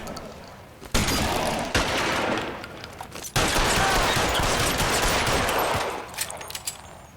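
Dense gunfire in the video game LA Noire, with rapid bursts and sharp shots layered loud and close in a sustained exchange.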